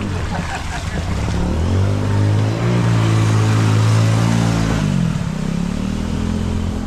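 A motor vehicle pushes through a flooded road with a steady, loud engine drone and a rushing wash of water. The engine's pitch dips and shifts near the end.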